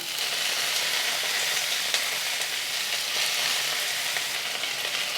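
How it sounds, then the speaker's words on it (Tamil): Ginger and garlic sauté in a hot pan for a mint and coriander chutney, giving a loud, steady, close sizzle with no pauses and no voices. "இப்போ இஞ்சியும் பூண்டி நல்லா வதக்கிக்கணும்"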